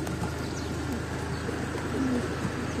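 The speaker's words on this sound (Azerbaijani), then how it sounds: "Quşlarımızı havalandırırıq." Pigeons coo and call close by during the release of racing pigeons on the first stage of a 105 km race from Hacıqabul to Pirsaat, with soft wingbeats and steady outdoor background noise throughout.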